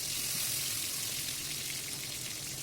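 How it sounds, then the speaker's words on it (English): Chopped tomato fries in oil with crackled jeera (cumin seeds) for a cauliflower and poppy seed dish: a continuous, even sizzle close by, with no talk. "When the jeera is crackled, we will add 1 chopped tomato"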